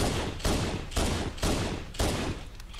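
Pistol fire in Halo: Combat Evolved Anniversary, roughly six sharp reports spaced about half a second apart, each with a booming low tail, loud and close with no talk.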